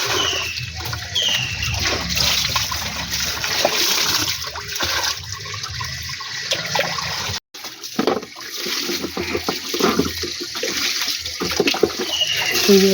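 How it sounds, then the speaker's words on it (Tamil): A fish tank is washed out with water, a continuous loud rush and splash of running and pouring water that briefly cuts out midway, with faint voices now and then underneath. "அதனால தான் ரொம்ப கோபத்தில் மீன் தொட்டியை கழுவிட்டு இருக்காங்க."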